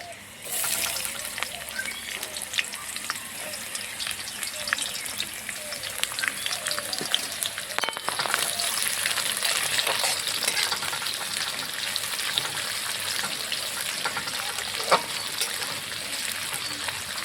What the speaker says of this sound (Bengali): পেঁয়াজটাকে ভালোভাবে ভেজে নেব